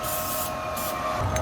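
Aerosol anti-spatter spray hissing from a can before a first attempt at welding, a steady broadband spray lasting the whole moment with a few brief bursts of stronger hiss, close and fairly loud.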